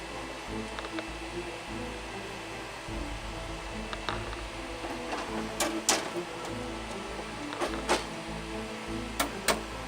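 A printer runs steadily under remote control by an attacker, giving a low mechanical drone with irregular sharp clicks and ticks that cluster toward the end.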